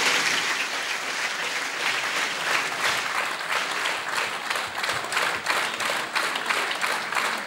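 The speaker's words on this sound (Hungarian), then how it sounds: "Egy nagy tapsal köszönjük meg azoknak, akik hozzájárultak ehhez a város asztalához." Sustained, even applause from an indoor audience at a town-day awards ceremony, many hands clapping steadily at moderate volume with a slight rhythmic pulse throughout.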